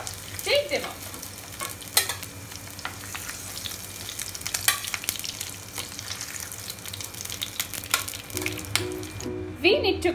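Paneer (cottage cheese) pieces fry in a pan with a steady crackling sizzle, punctuated by scattered clinks and scrapes of a utensil, close-up and moderately loud.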